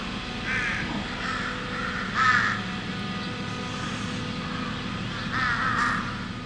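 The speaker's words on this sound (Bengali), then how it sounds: "চারদিকে কাকগুলো ডেকে চলেছে।" Crows caw in repeated bursts at dawn in the snowy, freezing Aru Valley near Pahalgam, Kashmir. A steady low hum runs underneath, and a few nearby calls stand out louder around the middle and the end.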